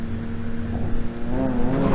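BMW 325 Cup race cars sit on the grid at the Parnu summer race as the start lights come on, engines held at a steady, revving drone that builds toward the end.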